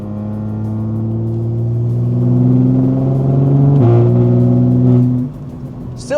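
A BMW G80 with a catless equal-length downpipe, valves open in Sport Plus, revs up loudly with a raspy drone, holds briefly, dips and then cuts off sharply near the end.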